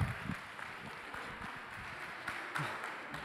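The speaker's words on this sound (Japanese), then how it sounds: "どうぞ皆様大きな拍手でお迎えください。" Audience applause welcoming Hoshi Eiji onto the stage as the winner at a Sports Hochi Cup tournament, a steady, moderately distant wash of clapping lasting throughout.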